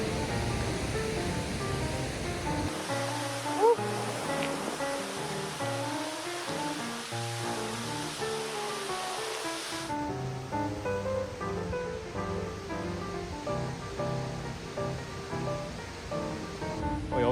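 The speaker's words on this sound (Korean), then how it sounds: "장비아 방향에서 보는 빅토리아 폭포입니다." Victoria Falls, seen from the Zambian side, roars continuously, a broad rushing wash of water with a faint tonal background layered over it, steady from start to finish.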